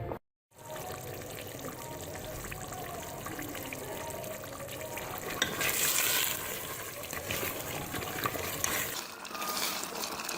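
Goat trotters cook in oil in a pot with whole green chillies, giving a steady, close sizzling and bubbling wash of sound that runs almost without a break and swells briefly midway.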